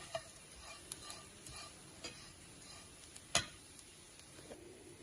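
Coconut and spices roast on a low flame for Kerala-style sambar, a faint quiet sizzle under light, irregular ticks and scrapes of stirring, with one sharper clink partway through.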